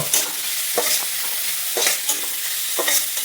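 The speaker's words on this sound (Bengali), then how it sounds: "এই দেখো তেল মোটামুটি তাতা হয়ে যাচ্ছে। দেখো এখন পেঁয়াজগুলো দিয়ে দেবো" Onions being stirred into hot oil in a home kitchen pan, giving a steady close sizzle with scraping stir strokes roughly every second, no voices.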